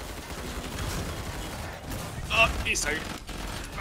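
Rapid gunfire in Killing Floor 2 sprayed toward a doorway, a dense continuous rattle of shots with sharper bursts partway through, while someone talks over it.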